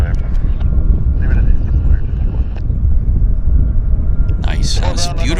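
Boeing jetliners taxi at Vancouver International Airport, a steady loud low rumble of engines filling the scene, with a voice talking throughout and a brief burst of other noise near the end.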